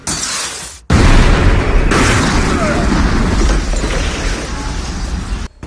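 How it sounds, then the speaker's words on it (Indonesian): An RPG strikes a house in a Tony Jaa action film, heard as a loud blast with shattering debris that roars on for several seconds before cutting off abruptly. "tiba-tiba sebuah RPG menghantam rumahnya tersebut yang mengakibatkan sebuah ledakan cukup"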